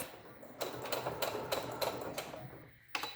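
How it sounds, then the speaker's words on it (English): A sewing machine stitches a cloth mask in short bursts, its quick mechanical chatter starting and stopping several times with brief pauses between runs, fairly close and without talk. "start sewing a couple stitches, do my back stitch, and continue sewing"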